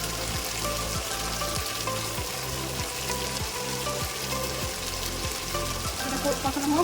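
Spices with tomato, turmeric and salt sautéing in a pan crackle and sizzle steadily nearby, with repeated scraping strokes of stirring; no talking is heard.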